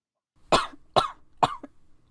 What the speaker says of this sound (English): she coughs into her arm